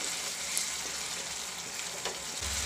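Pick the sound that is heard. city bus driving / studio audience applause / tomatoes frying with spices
tomatoes frying with spices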